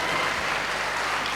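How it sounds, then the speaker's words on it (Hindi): Audience applause for a children's performance at a college Independence Day celebration in Patna, a brief, dense burst of steady clapping from a crowd. "एक बार जोरदार तालियां बजनी चाहिए इन बच्चों के लिए।"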